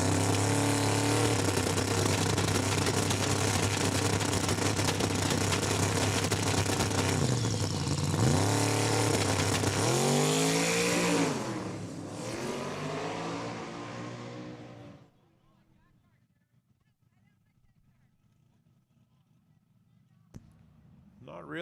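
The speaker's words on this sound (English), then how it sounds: "1968 Chevy Camaro. Making a bit of a solo hit here to wrap up our extreme small tire class." A 1968 Chevy Camaro makes a solo drag racing pass at a raceway, a loud roaring engine with rising gear-change sweeps that fades after about fifteen seconds, leaving quiet background.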